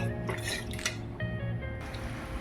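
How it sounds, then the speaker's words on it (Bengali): A pot of fish curry broth boils on the stove, giving close bubbling, dripping and soft squishy liquid sounds along with a faint clink of cookware. "ঝোলটা ফুটে উঠেছে এখন"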